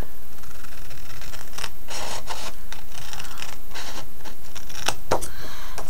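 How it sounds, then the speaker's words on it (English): Scissors cut at an angle through a flap of material in a series of close, dry snips and rubbing scrapes, with several crisp cuts and a sharp snap near the end; no one speaks. "Cut this part at an angle."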